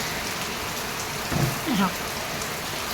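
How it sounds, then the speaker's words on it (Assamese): Heavy storm rain falls in Nalbari, Assam, making a steady, dense hiss of downpour throughout, with a brief faint murmur of a voice partway through. "আজি বছৰৰ প্ৰথমটো ধুমুহা বৰষুণ আমাৰ নলবাৰী সাইডে হৈছে"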